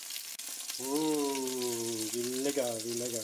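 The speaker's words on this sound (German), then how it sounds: "Einfach ein bisschen anbraten." Leftover poultry bratwurst sausage meat fries in a pan, a steady close crackling sizzle that runs throughout beneath a voice speaking.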